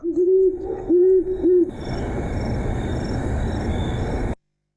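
Great horned owl hooting from a played recording: three deep, steady hoots in quick succession, fairly loud and clear, followed by a steady background rumble and hiss that runs on after the calls before cutting off.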